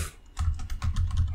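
Fast typing on a computer keyboard while coding, a close burst of clattering keystrokes in quick irregular rhythm, with no voice.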